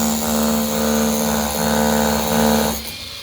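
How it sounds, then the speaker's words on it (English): A power drill runs loud and steady at close range, pre-drilling holes in a deck rail base plate, with a strong tonal whine, its pitch wavering slightly, then winds down at the end. "So we're going to take and pre-drill both these holes."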